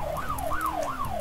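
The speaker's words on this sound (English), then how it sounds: "There's a police car underwater." A police car siren in the Shark Simulator video game wails in a rising and falling pattern, repeating about three times in quick succession, steady and fairly loud with no voices over it.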